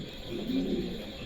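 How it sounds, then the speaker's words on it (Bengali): A pair of American white Lakkha pigeons gives a low, rolling coo close by, one soft call rising and fading within a second over faint background hiss. "দেখেন চমৎকার একজোড়া আমেরিকান সাদা লাক্ষা আছে।"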